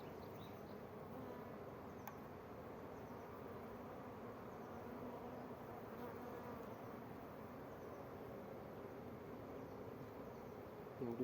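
Honeybees buzz at an open beehive during a hive inspection checking queen cells, a dense, continuous hum that holds steady and close throughout with no talk.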